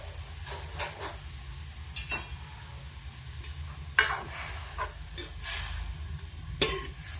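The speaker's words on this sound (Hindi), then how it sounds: "अब इसको चलाते हैं।" A utensil stirs creamy milk into bottle gourd halwa in a pan, scraping the metal in several distinct strokes over a low, steady bubbling sizzle. Occasional light clinks come through, and no voice is heard.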